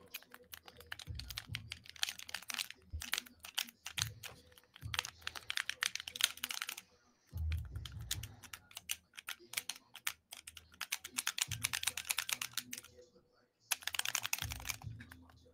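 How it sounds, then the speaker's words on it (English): Rapid, busy clatter of keys on a computer keyboard in bursts with short pauses, close and fairly quiet, while people talk and laugh over it. "He sounds like he's typing an essay"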